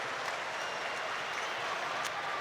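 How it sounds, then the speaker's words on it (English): A football stadium crowd at an Arsenal match applauds and cheers a substitute coming on, a dense, continuous roar of clapping that holds steady throughout. "Huge cheer for Ethan Nwaneri."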